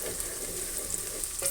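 A tiny pinch of asafoetida drops into hot oil, where it fries with a faint, even, continuous sizzle and light crackle, no voices over it.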